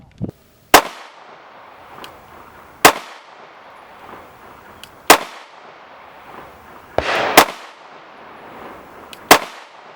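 A Taurus G3XL pistol with a 4-inch barrel fires six sharp, loud shots spaced a couple of seconds apart. Each crack is followed by a brief echoing tail on an outdoor range.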